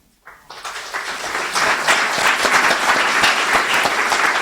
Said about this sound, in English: So we thank you for applauding for her, even though she wasn't able to make it.